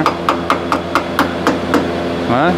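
Hammer tapping a brake caliper clip into place on a Ford Escape during a rear brake job, about eight sharp metallic taps in an even rhythm, close and loud, followed by a brief rising tone.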